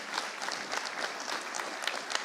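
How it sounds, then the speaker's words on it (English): A church congregation applauds during a Celebration Sunday service, with dense, steady clapping from many hands and a few sharper claps poking through the even roar. "And your clap should be even bigger"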